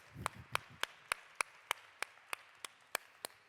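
Slow, evenly spaced claps at a film talk, about eleven sharp hits in three and a half seconds, faint and sparse, with a brief low murmur near the start.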